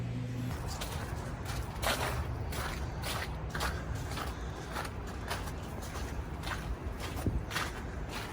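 Steady footsteps walk along outdoors toward a stolen and recovered second-generation Cummins truck, a regular sequence of soft thuds under low background noise, no talking.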